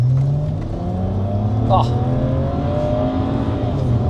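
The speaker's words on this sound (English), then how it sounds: "I hope the camera's picking up the turbo noise." BMW 335i with the N54 engine: a steady turbocharged engine drone from inside the car, with rising whine tones, and a brief voice breaks in partway through.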